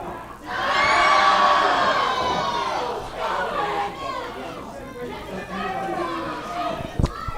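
A crowd at an independent pro wrestling show screams and cheers loudly, with high shrieking voices swelling and falling, then a sharp bang near the end as a commentator talks over it.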